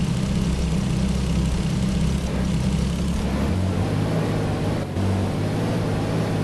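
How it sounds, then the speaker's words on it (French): A steady, rumbling car engine idles in the video game Real Driving Sim with a low, droning hum, holding constant throughout with a slight shift in pitch midway, no voices present. "Je vais vous montrer le bruit du moteur."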